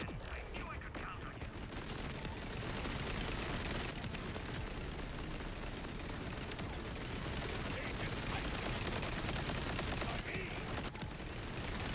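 A dense rocket and gunfire barrage in the video game Borderlands 4, loud continuous rapid bursts and blasts packed together without letup, someone talking briefly over it.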